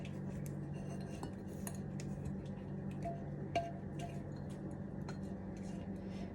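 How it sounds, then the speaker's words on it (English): A spatula stirs a flour mixture in a bowl for banana nut muffins, giving soft, faint, close scraping and ticking against the bowl in a steady run. "Then we're just going to take the flour mixture in this and stir it together until it's smooth"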